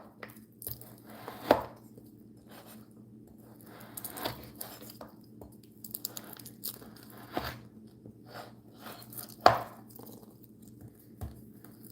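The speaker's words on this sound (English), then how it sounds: "They're frozen, so they're really hard to cut now." Frozen skin-on pork belly being cut for an Ecuadorian dish: a few sharp, isolated chopping cracks spaced several seconds apart over a quiet kitchen background.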